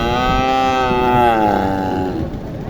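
A Sahiwal-cross cow at a village cattle market gives one long, loud, close moo that lasts nearly three seconds and slowly fades, with faint market background noise beneath it.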